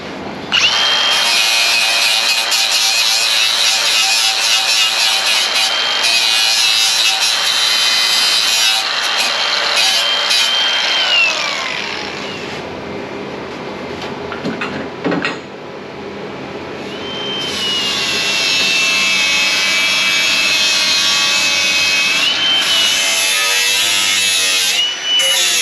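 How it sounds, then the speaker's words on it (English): A grinder cuts through a samurai figure, a loud, sustained high-pitched whine and grinding that fades out midway, then returns just as loud and steady to the end. "The grinder is going towards you."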